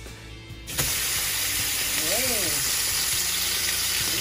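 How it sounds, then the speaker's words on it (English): Wagyu beef hamburger patty frying in oil in a pan gives a steady, close sizzling hiss that sets in abruptly and holds throughout, with a brief exclamation from a woman in the kitchen and faint background noise. "so I'm going to start frying our beautiful Wagyu beef"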